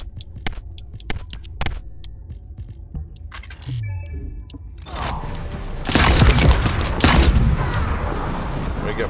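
Shotgun fire in the video game The First Descendant: scattered sharp shots at first, then loud, dense bursts of blasts booming in quick succession near the end.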